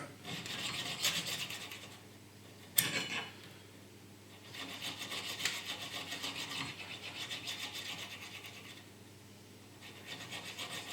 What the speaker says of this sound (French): on va lui remettre un petit coup de fusil